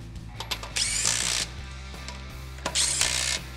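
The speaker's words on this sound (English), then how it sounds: "take our 21 millimeter socket and get those on there tighter" A power tool with a 21 mm socket running lug nuts tight on a 2005-2022 Toyota Tacoma wheel, two bursts of high whirring buzz about a second each, close and loud, with clicks between them and no talking.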